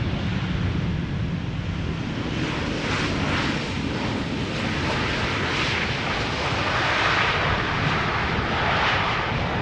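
A seven-year-old KLM airliner arriving from Frankfurt on approach to the center runway at Schiphol Airport, a steady broad engine roar mixed with wind rumble, loud and sustained throughout without speech.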